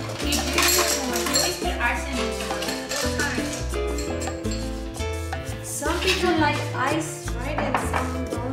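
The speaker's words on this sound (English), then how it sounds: "so we've let you cut up the lime" A knife chops through a lime on a cutting board in a kitchen, a quick series of sharp cuts and clinks while music plays underneath.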